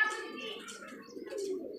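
A pigeon coos softly in a short, low, warbling call, faint and close. Some higher chirping sounds over it.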